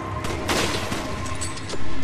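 A sniper rifle fires in the co-op video game Resident Evil 5: a loud, sharp crack with a broad blast, set against busy, dense game noise and no talking.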